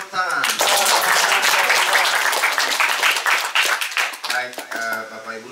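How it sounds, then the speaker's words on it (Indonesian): Audience applause at a community talk event, dense clapping filling the room at close range, with a voice speaking over it and the clapping thinning toward the end. "Sekali lagi tepuk tangan."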